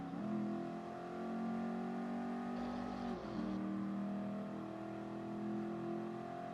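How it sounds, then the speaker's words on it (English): Car engine in a racing video game held hard against the rev limiter in first gear during a poor start, a loud steady buzzing drone with harmonic bands that dip briefly midway before resuming. "I hit the limiter in first gear"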